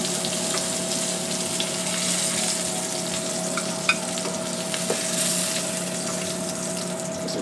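Tuna steaks sizzling in a frying pan, a steady close hiss and crackle that carries on without a break, a couple of faint clinks, and no voices.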